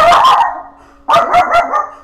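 A dog barking in two loud, close bursts: a quick pair of sharp barks, a brief pause, then three or four more rapid barks, with no talking.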